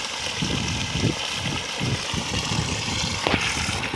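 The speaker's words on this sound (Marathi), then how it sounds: "मित्रांनो, मोटर ऑन केली आहे." A Shakti 3 hp solar water pump motor runs steadily, with a continuous broadband drone and a low, pulsing rumble, close and with no talk.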